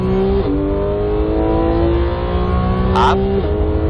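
A Porsche 911 GT3 race car on the Red Bull Ring accelerates hard, its loud engine note rising steadily with two quick upshifts, heard from inside the car with no talk.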